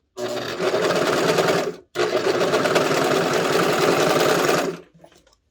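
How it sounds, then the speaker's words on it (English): A sewing machine stitches off the edge of skirt fabric in two loud, steady bursts, separated by a brief pause, then stops abruptly into near silence. "Tucking that up and out of the way just so I can stitch off the edge here."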